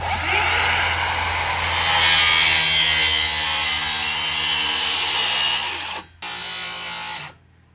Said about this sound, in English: So this is everywhere that's gonna get drilled and get a stud.